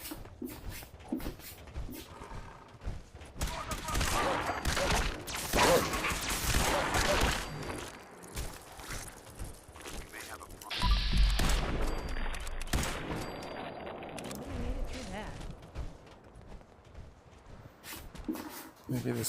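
Rapid, repeated gunfire in the VR game Fallout 4 on an omnidirectional treadmill, with bursts of shots and clattering action heard up close beneath frequent talking.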